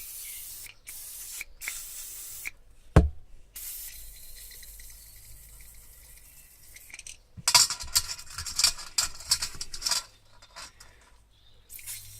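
Short hissing bursts of carburetor cleaner sprayed through a carburetor's pilot holes, loud and close, with faint metallic clinks and a sharp tap between them.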